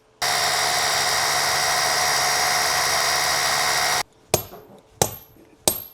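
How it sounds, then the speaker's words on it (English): A power drill bores a deep 5/8 inch hole for a post base, a loud, steady whine lasting several seconds, then stops, followed by a few sharp knocks and clatters. "Let's drill a 5/8 hole"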